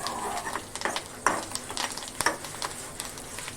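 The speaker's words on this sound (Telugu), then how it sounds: "ఇంకొంచెం ఉల్లిపాయని ఫ్రై చేద్దాం" Sliced onions frying in a pan for a lentil dish with curry leaves, a soft sizzle under irregular scraping and clacking of a spoon stirring against the metal, close and fairly quiet, no one speaking.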